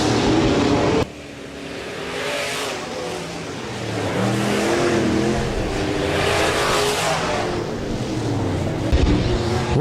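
B-Modified race cars roar around Rapid Speedway during a heat race, a dense, steady engine blare from several cars that fills the whole stretch, briefly dipping early and then surging again, loud and close.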